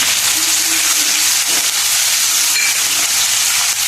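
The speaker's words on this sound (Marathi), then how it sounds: "मिरची फ्राय झालेली आहे" Green chilies and crushed garlic frying in hot oil in a pan, a loud, dense, continuous sizzle and hiss throughout with no talking over it.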